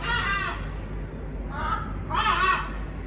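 Birds call outside in loud, harsh honking bursts, two or three calls in quick succession with a short pause between them, close enough to stand out clearly.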